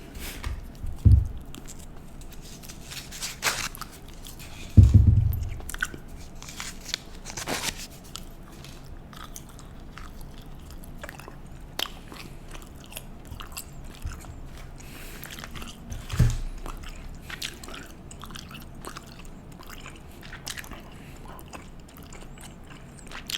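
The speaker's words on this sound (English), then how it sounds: "today we have some very basic gum, extra spearmint flavor, and I'm gonna chew not one, but two pieces." Two pieces of extra spearmint gum being chewed, with a few louder wet bites and smacks standing out over a steady faint mouth-noise background, no talking.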